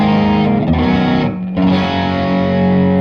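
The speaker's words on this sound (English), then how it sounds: "King of Tone after the modulation effects" Loud, thick overdriven electric guitar chords through an Analogman King of Tone pedal placed after modulation effects, sustained and ringing with a brief dip before the strummed chord swells back.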